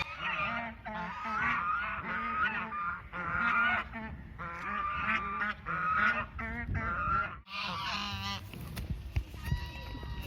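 A flock of geese honks loudly and repeatedly at close range, the calls overlapping in a steady, raucous stream that shifts to sharper, scattered cries near the end.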